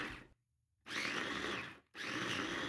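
A blender grinding sambal ingredients for spicy sardine sambal into a coarse paste, running in two loud, steady bursts separated by a brief pause, with no talking.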